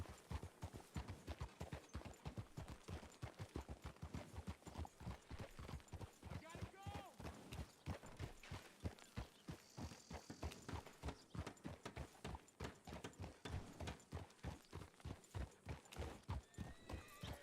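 Horses trot with steady, rapid clip-clop hoofbeats in a video game, with a few whinnies and neighs rising over the hooves throughout, close and continuous.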